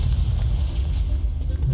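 Incendio fire spell cast in Hogwarts Legacy, a loud, deep, rumbling roar of flame-like blast that sustains throughout with heavy low boom and hiss, with voices mixed in.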